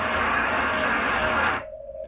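Steady hiss of radio receiver background noise in sideband mode, loud and broadband, cutting off abruptly near the end to a faint residual tone.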